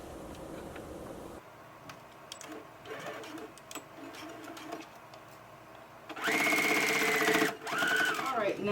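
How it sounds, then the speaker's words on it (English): A sewing machine stitches a foldover clutch bag with rapid mechanical whirring bursts between quieter handling noises. A soft voice is heard partway through. "Return back to your sewing machine and just continue stitching."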